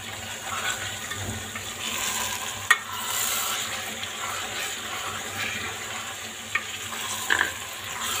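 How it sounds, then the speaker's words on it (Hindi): Chopped ginger being stirred into frying masala in a pan for mutton do pyaza, giving a continuous soft sizzle with scraping stirs and a few sharp utensil knocks, close and with no talk. "ये सब शामिल करके हमें इसे अच्छी तरह मिक्स करना है।"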